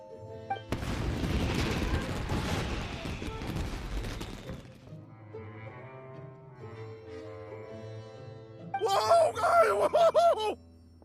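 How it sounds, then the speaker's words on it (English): Fireworks burst in the Genshin Impact video game, a dense rumbling barrage of booms and crackles for several seconds, then a quieter stretch with a musical tone before a final bright sparkling flourish. "Yoimiya, this is turning into a bit of a fireworks display."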